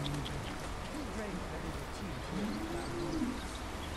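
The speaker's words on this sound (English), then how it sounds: "I did hear a bird." A yellow bird in the video game Ghost of Tsushima gives a few soft cooing, warbling calls over a busy background of ambient game sound.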